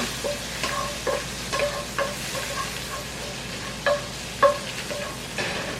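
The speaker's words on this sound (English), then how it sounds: "the pepper, and you have to stir it because it gets hot very fast and you don't want it to burn" Chile pepper sizzling in a hot pan, a steady, moderate frying hiss under repeated utensil scrapes and clinks against the pan that come in an uneven rhythm roughly every half second.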